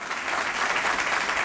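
Brief, dense applause for the president, a steady wash of many hands clapping at moderate loudness.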